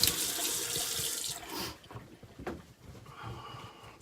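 Tap water runs steadily into a sink during rinsing, a loud splashing hiss that eases midway and carries on more quietly with small splashes and drips.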